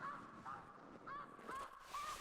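Geese honk repeatedly as they fly over an outdoor waterfowl setting, a series of short, fairly distant calls spaced about half a second apart, heard alone over soft background.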